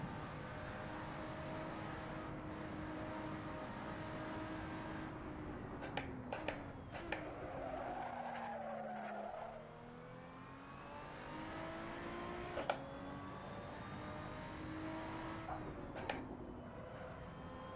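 Sim racing game car engine holding a steady, loud drone with rising and falling revs through gear changes, plus a few sharp clicks, with no voices.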